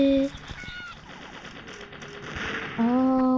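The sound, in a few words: bomb throwing and gunfire in a video game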